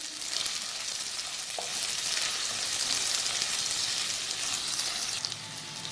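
Chicken chunks fry with onion and garlic in a pan, giving a loud, continuous crackling sizzle that stays steady the whole time, with one faint utensil tap early on.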